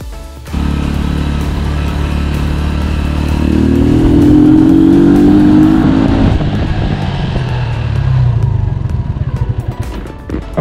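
A motorcycle with drum brakes brakes as hard as possible from about 40 km/h without locking the wheel. Loud, close engine noise builds, peaks, then falls away as the bike slows, with no talk.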